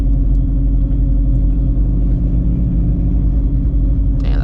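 An 800-horsepower Shelby GT350 Mustang on the street rumbles with a deep, steady idle-like drone close to the microphone, holding an even low growl throughout before a brief brighter burst at the end.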